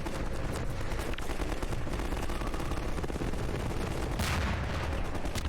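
Dense, continuous gunfire and blasts rattle nonstop in Half-Life 2 combat, with a grenade explosion buried in the loud, unbroken barrage.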